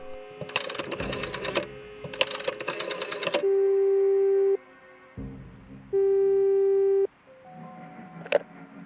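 Telephone line tones in the video game Frequency Missing: keypad dialing bursts, then two long steady beeps separated by a pause, followed by a faint click, with no talking.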